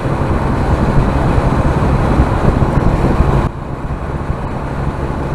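A motorcycle cruises on an English road in sixth gear at about 72 mph with the windscreen raised, giving steady loud engine and wind roar that drops slightly near the end.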